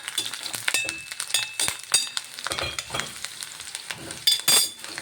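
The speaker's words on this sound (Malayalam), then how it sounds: "നമ്മുടെ സബോള, ഇഞ്ചി, വെളുത്തുള്ളിയൊക്കെ ഒന്ന് വഴന്ന് വരട്ടെ" Onion, ginger and garlic sautéing in a pan for a beef liver dry fry, with a steady sizzle broken by frequent scraping stirs and light clinks of the spoon against the pan.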